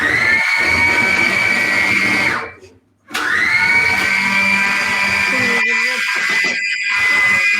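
A kitchen blender whirs loudly during a group cooking session, running steadily, cutting out briefly, then starting again, with voices and clatter around it.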